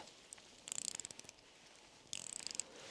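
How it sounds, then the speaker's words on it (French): Victorinox Swiss Tool Spirit X Plus compact ratchet wrench clicking in two quick bursts of fine, rapid ticks. The sound is close and fairly quiet, with a short pause between the bursts. "là, on a une vraie belle petite clé à cliquet"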